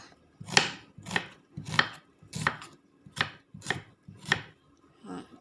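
A knife chops steadily on a board, seven or eight even strokes in a slow, regular rhythm, close by with no talking.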